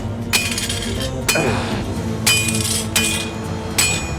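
A hammer rings against a sword blade being forged, five sharp metallic strikes at a slow, steady pace, loud and close over a constant background hum.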